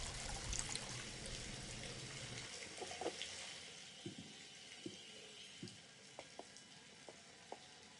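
Water pouring in the horror video game The Devil in Me: a broad splashing pour for the first couple of seconds, then fading into scattered faint drips and splashes, fairly quiet.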